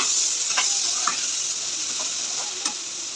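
Beans and egg stirred in a frying pan, a steady bright sizzle with a few soft scrapes of the spoon at intervals, close and alone.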